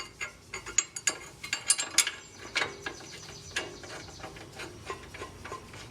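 A hand ratchet clicks in quick, uneven bursts while 18mm bolts are run in on the rear brake caliper bracket of a Jeep Wrangler JK. The metallic ticks are close and fairly quiet, with no talking.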